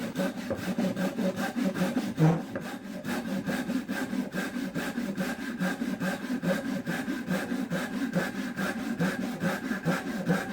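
A hand saw cuts through wood in steady back-and-forth strokes, a rasping rhythm repeating evenly and close for the whole stretch, with no talking.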